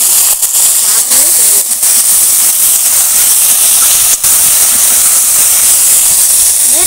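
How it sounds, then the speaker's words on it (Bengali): Malabar spinach stems and leaves frying in hot oil with cumin seeds, a loud continuous steamy hiss as water escapes the greens, with a few brief dips but otherwise unbroken and close. "এবার আমি পুঁই ডাঁটা আর পুঁই শাকটা ভেজে নেব।"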